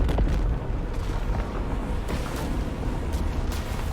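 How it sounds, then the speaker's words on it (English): A huge, rumbling explosion in a Warhammer Age of Sigmar cinematic trailer, a heavy low boom that keeps roaring and crackling for several seconds, loud and dense with no voices. "that's a big explosion."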